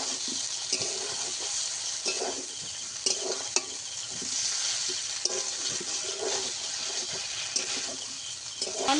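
Soybean chunks and potato are stir-fried with spices in a pan, giving a steady close sizzle broken by periodic scraping strokes of a spatula as the mixture is turned.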